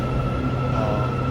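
A train pulls into a station in Malaysia with a steady, continuous rumble of wheels and carriages that holds an even level throughout, with no voices.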